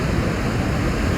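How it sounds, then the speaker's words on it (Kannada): Water rushes steadily at Salaulim Dam on a rainy, foggy day, a dense, even roar of flow that stays close and constant with no voices. "ನೀರು ನೋಡ್ರಿ ಹೊಂಟೈತಿ."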